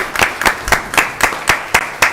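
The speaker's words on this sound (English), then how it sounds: "That deserves a hand clap." Meeting attendees at a Douglas County commission session clap together to honor Special Olympics athletes, a brief burst of loud, evenly spaced hand claps sounding close and rhythmic over about two seconds.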